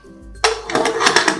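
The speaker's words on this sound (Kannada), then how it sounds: "ಈಗ ಲಿಡ್ ಕ್ಲೋಸ್ ಮಾಡ್ಕೊಳ್ತಾ ಇದ್ದೀನಿ" A pressure cooker lid is closed on a pot of rice bath, a metallic clunk followed by a second of clattering, scraping metal close by.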